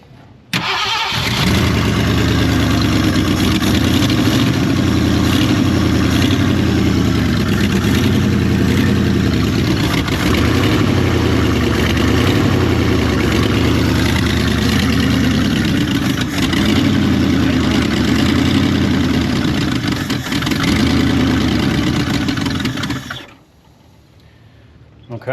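A Ford Dentside F150 pickup truck engine runs steadily and loudly up close for over twenty seconds with a rough, throbbing idle, then cuts off abruptly near the end.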